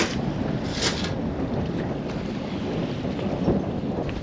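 Strong wind gusts buffeting the microphone on a cruising sailboat at sea, with white-capped waves and water noise beneath; a loud, continuous roar with brief hissing bursts and no talk.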